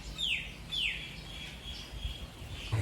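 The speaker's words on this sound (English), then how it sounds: "as you can probably hear, the birds love this time of year" Birds sing after monsoon rain on an evening in Pattaya, with two clear descending whistled calls near the start and fainter chirps after them, all over a low steady background rumble.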